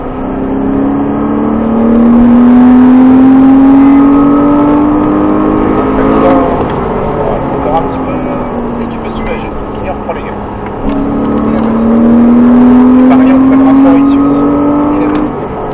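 Porsche Cayman S accelerating hard around the Trappes race track, engine note climbing steadily in two long pulls with a gear change between, loud and close from inside the car while an instructor talks over it.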